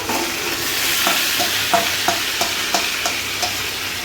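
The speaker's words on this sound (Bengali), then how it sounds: "আর একটু নাড়, চিকেনটাকে নাড় একটু।" Chicken curry being stirred in a pan: a spoon scrapes through the pieces in steady repeated strokes, about three per second, over a continuous close sizzle, with no voices.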